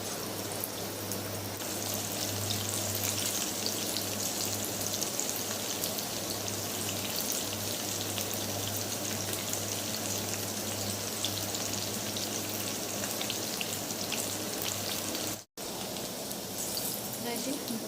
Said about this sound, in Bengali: এইভাবে করে সবগুলো ভেজে নেবে